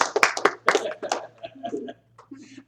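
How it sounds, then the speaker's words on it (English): An audience applauds with bursts of clapping and light laughter after a storyteller's three little pigs tale at a family magic show, the claps loud and close before thinning out into scattered sounds. "thank you guys for applauding"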